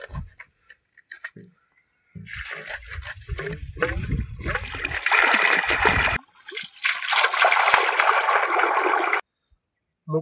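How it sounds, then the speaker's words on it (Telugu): Pieces of murrel fish are rinsed by hand in water in a village kitchen, with loud, sustained splashing and sloshing in two long stretches, preceded by scattered handling sounds and followed by brief quiet. "ముక్కలు ఇట్లా నీట్గా కడుక్కొని"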